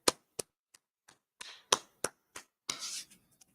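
Audience of a brotherhood class in San Antonio clapping, a string of sharp, scattered claps close by with uneven gaps, building into a short flurry of applause before trailing off.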